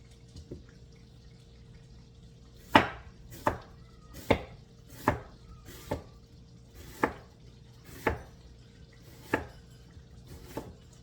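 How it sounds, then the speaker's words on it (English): A knife thin-slices an onion into half moons on a board for chicken gumbo, a series of about ten crisp, separate cuts spaced irregularly, close and clear with nothing else heard. "you're going to thin slice the onion and put it in. I'm slicing it in half moons."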